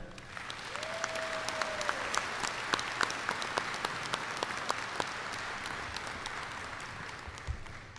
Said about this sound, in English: Please join me with applause to thank them for all that they have done.